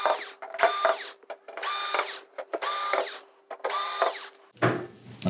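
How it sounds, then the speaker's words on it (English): Screws come out of the power supply board of a VIZIO V436-G1 TV under a power drill, with four close, loud whirring runs separated by short pauses and a final clatter of handling. "we're just gonna take the five screws out and that should be the power supply board"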